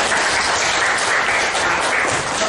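A classroom of students bursts into dense, continuous applause, many hands clapping together at close range, loud and steady throughout with no voices standing out.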